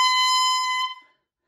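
A single shrill, reedy squeal from a clarinet mouthpiece and reed blown without the instrument, held for almost a second, bright and piercing, then cut off abruptly.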